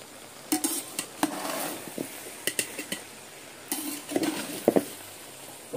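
Rice and vegetables being stirred in a pan for chicken and vegetable fried rice: irregular scraping clatters and knocks of a utensil against the pan over a soft sizzle, clustered in short bursts.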